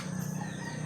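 Pet chickens cluck and call briefly nearby, a short burst of fowl noise with no talking.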